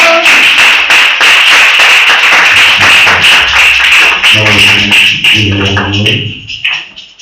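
A church congregation claps and acclaims the Lord: loud, rhythmic, steady clapping from many hands, with voices rising over it toward the end as the clapping thins out.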